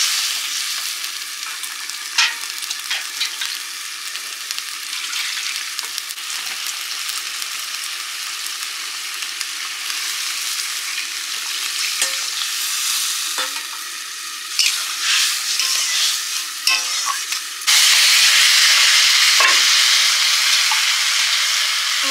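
Mustard paste mixed in water goes into frying pumpkin in a pan, giving a continuous loud sizzle with scraping stir strokes that grows louder and brighter toward the end.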